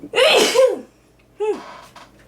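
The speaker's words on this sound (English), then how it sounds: "It's potent and made me sneeze" A single loud sneeze, followed a moment later by a smaller second sneeze, close and alone.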